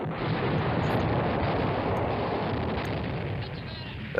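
Airstrike in the Command Ops 2 wargame, heard as a sustained, dense roar of rumbling explosions that holds steady for several seconds, loud and continuous with no talk over it.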